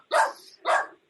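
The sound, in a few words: neighbor's dog barking in the background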